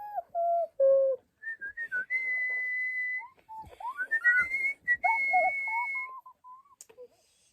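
A person whistles to imitate bird song, with short clear tonal phrases, rising slides and held notes separated by pauses, close and fairly quiet.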